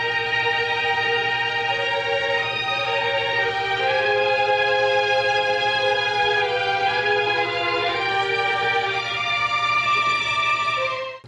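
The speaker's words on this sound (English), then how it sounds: "Now that's the kind of Hollywood style violin writing that I was talking about" Hollywood-style orchestral strings, violins in four parts with octave doubling, sustaining lush held chords that swell and shift smoothly, loud and continuous with no talking before they cut off.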